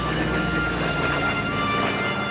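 Steady, loud drone of an FG-1D Corsair piston warplane engine climbing at an air show, continuous and unbroken throughout.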